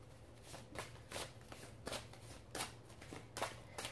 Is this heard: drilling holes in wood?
no